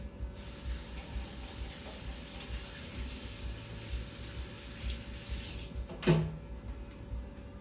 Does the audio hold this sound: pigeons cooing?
no